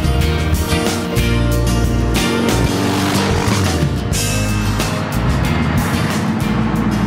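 Motorcycle cruising along an open road on a ride from Alaska to Patagonia, a loud, close, steady engine drone with wind rush, shifting pitch slightly as it travels, no voices.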